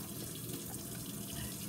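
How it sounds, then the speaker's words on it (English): Fish pieces are rinsed under a steady running kitchen tap, a continuous close, even splash of water with no voices. "I'm gonna rinse this off as well. Again, rinse it nice and thoroughly."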